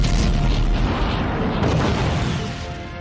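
A cinematic explosion effect representing dying stars in a space documentary: a deep, roaring, broadband boom that rumbles steadily for a few seconds and then fades slightly.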